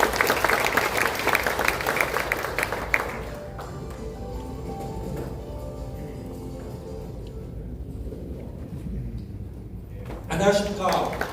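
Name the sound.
audience applause at a seminar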